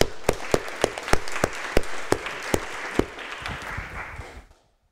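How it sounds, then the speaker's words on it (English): Audience applause for a speaker at a student debate on banning drinking societies, a small room of people clapping with crisp, close individual claps over a softer wash, fading out after a few seconds. "Please we have a warm round of applause."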